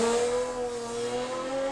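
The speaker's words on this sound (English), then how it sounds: "I don't think there's anything better than the sound of those L24s running like they do" A historic sprint car with an L24 engine races at a sprint event, its engine giving a sustained, steady high whine that holds at close range with no voices.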